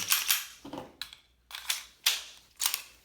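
Sharp metallic clicks and clacks from a Smith & Wesson M&P 22 Compact pistol as its slide is worked and locks back, six or seven crisp close snaps in an uneven rhythm, no voices.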